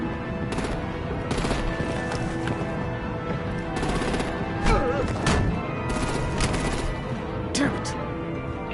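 Artillery and rapid gunfire in Batman Telltale, dense bursts of shots and booms firing continuously, loud and close, with shouted voices mixed in the chaos.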